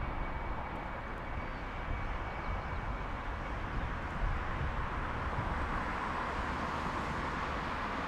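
A DHL Boeing 777 freighter arriving at Frankfurt airport gives a distant, steady roar of jet engines that holds evenly throughout, broad and airy, with no voices.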